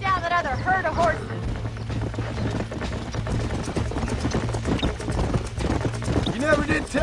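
Horses gallop in Red Dead Redemption, a rapid, continuous drumming of hooves under a low drone, with short voice-like calls at the start and near the end.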